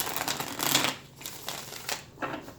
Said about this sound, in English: So let's shuffle again to get the deck fresh.